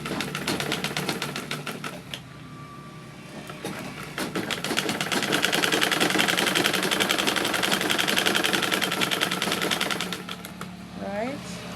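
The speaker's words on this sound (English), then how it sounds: "I'll just sew it straight to where it stops" A sewing machine stitches a side seam pocket on a dress, rattling in a steady rapid run that pauses and restarts, with a person speaking over it throughout.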